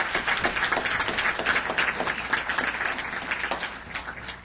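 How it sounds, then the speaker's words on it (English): Audience applause in a city council chamber, dense continuous clapping from many people holding steady at fairly loud volume throughout, with no voices on top. "Let's have a round of applause."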